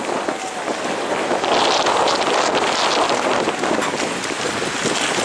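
Strong, steady wind roars across the microphone at a paragliding venue in Aceh, a continuous broadband rush with gusty surges that never lets up.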